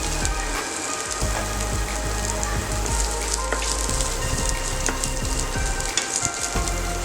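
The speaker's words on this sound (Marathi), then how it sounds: "कांदा घालूया" Onion frying with spices in a pan for a desi Chinese dish, giving a loud, continuous sizzle and crackle with occasional stirring scrapes throughout.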